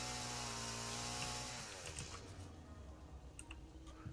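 A chainsaw runs in the video game Satisfactory with a steady, buzzing engine drone that shifts after about a second and a half into a rougher, choppier rattle, heard up close and alone.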